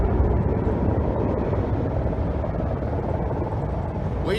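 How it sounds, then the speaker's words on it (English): An AH-64 Apache helicopter passes overhead, a loud, broad rumbling roar that holds steady throughout and fills the space, with a faint scrape of a nearby sound at the very end. "Ladies and gentlemen, that is an Apache helicopter."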